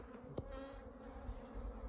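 Honeybees buzzing around a brood box, a faint close drone with one brief louder buzz passing near, no voices.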